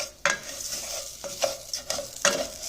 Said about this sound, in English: you gotta constantly stir this